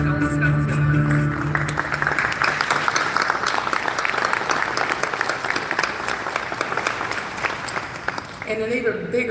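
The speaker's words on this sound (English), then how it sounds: "Let's give one more huge round of applause to our adult scholarship winners." An audience at a board installation ceremony applauds adult scholarship winners with a loud, continuous round of clapping and some cheering, while a voice and music are faintly present at the start and end.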